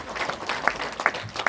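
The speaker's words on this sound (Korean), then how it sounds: "토론에 참여하신 우리 참가자들에게도 박수 한번 더 주시기 바랍니다." A forum audience applauding the panel participants after a discussion, a brief, soft burst of scattered clapping in a hall.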